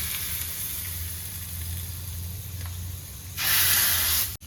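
A mustard seed, curry leaf and red chili tempering cooks in hot oil for bottle gourd gojju: a low steady sizzle, then a sudden loud, bright hissing burst near the end as it is poured in.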